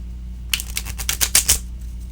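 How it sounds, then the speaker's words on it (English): A Jungian Tarot card deck being shuffled, a quick burst of crisp riffling card flicks lasting about a second, close and fairly loud over a low steady hum. "They shuffle well, a little bit stiff."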